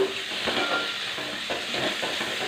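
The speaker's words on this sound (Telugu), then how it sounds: "ఉల్లిపాయ పేస్ట్ వేసుకున్నాము, కలుపుకున్నాము" Onion paste frying in a pan while being stirred, a soft continuous sizzle and hiss broken by faint scraping strokes of the spoon at a steady pace.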